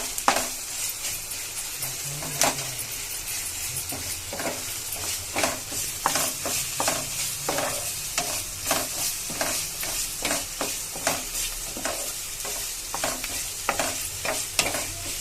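Masala frying in hot oil in a pan for appadala masala curry, with a steady sizzle and a series of scraping stirs at an irregular rhythm. The stirs come close together throughout and are clearly heard.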